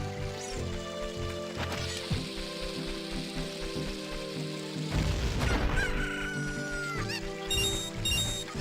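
Chicken clucking and a rooster crowing in the game Ocarina of Time near Zora's River, steady looping game sound with music underneath, the crow rising midway.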